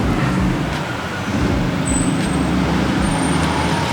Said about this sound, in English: There's a lot of traffic jam going outside.